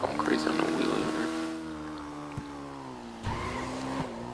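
A motorcycle engine revs and whines through a wheelie in Grand Theft Auto Online, its steady tone rising and falling with brief thumps and skids, loud and close under speech.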